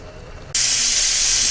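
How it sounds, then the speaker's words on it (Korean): Steam bursts from a pot of braised dried pollock with dried radish greens, a sudden loud, steady hiss starting after a quiet moment and continuing unbroken. "김을 빼주고요."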